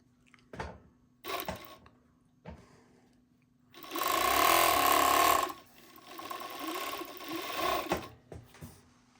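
A Juki MO-6814 four-thread direct drive overlocker runs in a steady loud burst of whirring stitching for about two seconds, framed by softer clicks and handling noises, then hums more quietly afterward.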